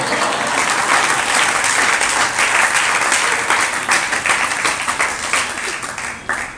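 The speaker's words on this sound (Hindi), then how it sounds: "आपने ताली बजा दी, मुस्कुरा दिया" Sustained applause from an audience at a religious discourse, loud and steady, with dense clapping that tapers slightly toward the end.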